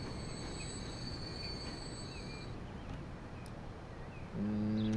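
A train in the video game Transport Fever 2 hums and rolls along with a faint high wheel squeal, steady and moderate, before a tonal horn-like blare enters near the end.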